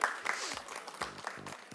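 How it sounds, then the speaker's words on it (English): A conference audience at a fintech event applauds a panel as it is welcomed, a short, soft wash of clapping with a voice speaking over it. "Please join me in welcoming them with a thunderous round of applause."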